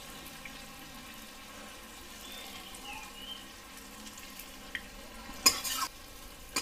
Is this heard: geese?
no